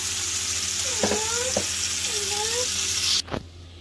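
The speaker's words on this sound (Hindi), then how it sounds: "इसको पलट पलट के मैं एक दो मिनट और पकाऊंगी" Chicken shashlik sticks cook in a pan with a constant close sizzle, a couple of clunks as the sticks are turned, then a louder knock near the end.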